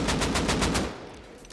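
AK rifle sprayed in the console edition of the video game Rust: a rapid burst of about six loud, evenly spaced shots that then fades into a decaying echo, with no voices.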